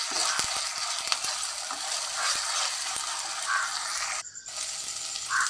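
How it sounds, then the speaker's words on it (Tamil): Onions sauté in a clay pot for a chicken kulambu, giving a continuous soft sizzle broken by scattered stirring clicks and scrapes, with a short gap before the frying resumes. "இப்போ நல்லா வெங்காயம் வதங்கிடுச்சு."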